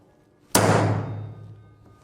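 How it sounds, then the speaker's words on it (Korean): A single heavy thunk from a hammer striking a broaching tool, sudden and close, with a low boom that rings out and fades over about a second. "너는 망치를 잡고 그리고 좋은 쾅 소리를 내주는구나"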